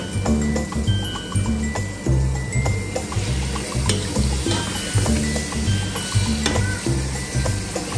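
Tomatoes fry in a pan for chicken pulao, giving a steady close sizzle with occasional stirring scrapes and clinks, no talk over it.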